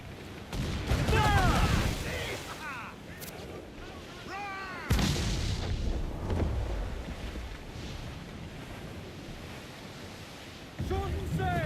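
Enemy ship cannons boom across the water in Assassin's Creed Black Flag, two heavy blasts several seconds apart over wind, waves and the creak of a sailing vessel, with shouting voices in between.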